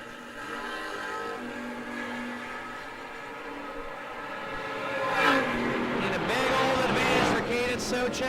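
Engines of the Trick Flow K&N Nova and a Buick roar at a drag race, a steady loud drone that swells sharply into a louder launch surge partway through, heard from a distance under an announcer's voice.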